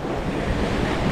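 Surf breaking on Playa Mamitas beach in Playa del Carmen, a steady, fairly loud broadband rush of waves with wind buffeting the microphone, continuous and without voices.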